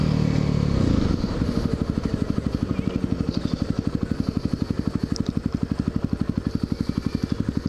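A motorcycle riding through town streets in Lakewood, New Jersey, its engine close and loud with a fast, rhythmic pulsing beat and rattling clatter, settling after a rougher first second.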